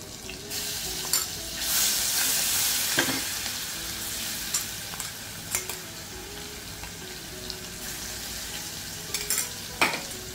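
Asafoetida and green spice paste hit hot oil with a bright, steady sizzle, while a spoon scrapes and clinks against the pan every second or two; no talking.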